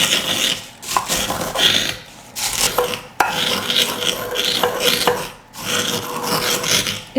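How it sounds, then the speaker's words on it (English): Cornflakes crushed with a rolling pin on a kitchen counter, likely in a bowl or bag: close, loud gritty rasping and crunching in repeated strokes, with short pauses between bursts. "just take your rolling pin to it. Whatever gets those cornflakes crushed"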